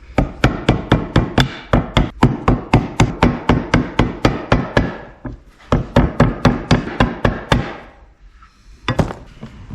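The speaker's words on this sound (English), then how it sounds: "tap it in with a hammer" A hammer taps a seal into place during junkyard engine prep for an LS swap, a long series of sharp, loud, evenly spaced strikes in two runs, then a pause and a final hit.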